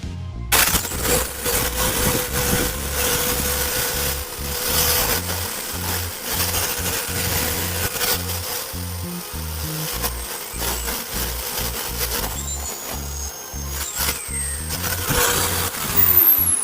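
An electric drill machine mounted on a drill stand bores a 5 mm hole with a slightly faulty drill. It gives a steady, close grinding whir over a low motor hum that runs unbroken for about seventeen seconds, with no speech.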